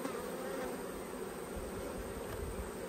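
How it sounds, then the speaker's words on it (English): Honey bees buzz around an open beehive, a steady, close, dense hum with no talk, holding even for a few seconds. "Get a few bees on that lid."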